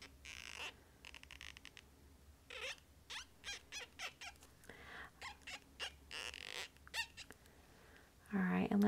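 A Copic marker rubbing across an acetate sheet during a stained-glass craft gives quiet, thin squeaks in short repeated strokes, with faint talking and handling noises around them.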